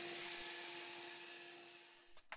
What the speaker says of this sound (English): I can just cut it out on the bandsaw